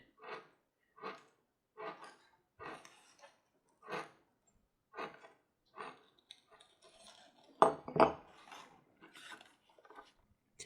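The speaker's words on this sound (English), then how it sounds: "use the round knife to trim off the ends of each of the straps to a nice round end" A round knife cuts through leather holster strap ends in a string of short, quiet, evenly spaced strokes, each a brief close scrape, with a few denser rubbing cuts toward the end.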